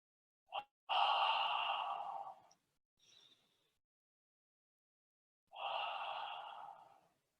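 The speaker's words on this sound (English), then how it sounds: "Keep going, nice strong breaths." Deep breathwork breaths come in two long, forceful exhales with a short intake between, close and breathy, separated by a stretch of silence.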